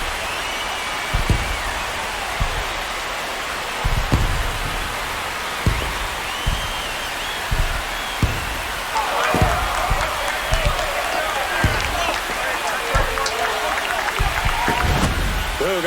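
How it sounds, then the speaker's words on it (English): Virtual ballpark crowd in MLB The Show 26 roars steadily after a solo home run in a Braves at Reds game, with sharp bursts rising over the din and commentary voices running on top. "This crowd has really come alive."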